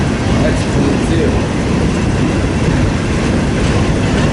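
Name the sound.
freight train with CSX and Conrail cars passing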